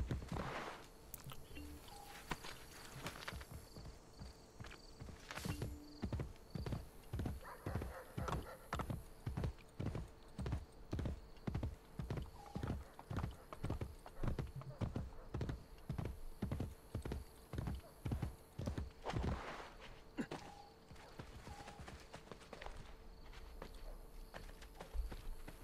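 Steady clip-clop of horse hooves at a brisk trot in Assassin's Creed Brotherhood, evenly paced and continuous, with a faint whinny and soft ambient game sounds behind.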